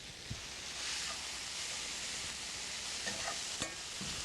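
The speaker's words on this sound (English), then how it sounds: "So I put a little bit less oil this time. Just enough to get it sauteed." Minced garlic sauteing in peanut oil gives a soft, steady sizzle with occasional stirring scrapes, quiet and close, with no talking.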